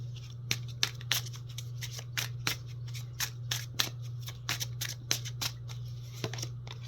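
Oracle and tarot cards being shuffled and drawn, with a quick run of crisp, snapping flicks and riffles over a steady low hum, no voices.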